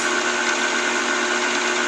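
Motorized polishing mechanism for bullet swaging dies, charged with diamond lapping compound, humming steadily and evenly throughout at close range.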